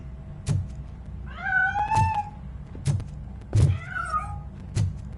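A cat hides inside a piano in the video game I am Robocop and lets out two clear, rising-and-falling meows between sharp thumps and clunks, sounding close against a low background hum.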